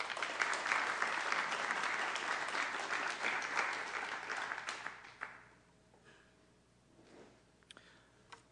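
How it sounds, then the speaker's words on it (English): Audience applause at a state Senate committee session on science, technology and entrepreneurship: dense, steady clapping from a room full of people for about five seconds, then tapering off into a quiet room. "Give him a round of applause again."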